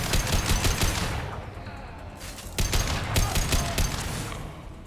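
A gun in Mass Effect 2 fires its last rounds in loud, rapid bursts, a string of close shots at the start and another volley a couple of seconds later.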